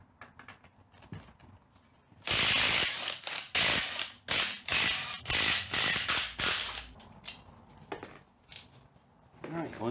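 A ratchet spins off a string of 12mm nuts holding the third member of a Toyota axle, loud bursts of quick clicking and clanking with brief pauses between nuts, close up, with some talk in the background.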